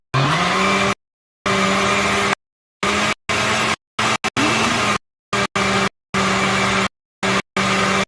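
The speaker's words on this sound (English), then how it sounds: "You can mix the cherry juice into the blender. You want to put the top back on, and you want to start on" Blender running on a low setting while mixing cherry juice, a loud whirring motor in repeated bursts of roughly half a second to a second, separated by silent gaps.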